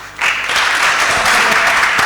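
An audience breaks into applause at a renewable energy challenge event, loud dense clapping that starts abruptly and holds steady close by.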